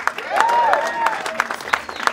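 Audience clapping and cheering at a NAMM 2018 live performance by a band, a steady moderate burst of applause with sharp individual claps and a faint whistle-like tone riding over it.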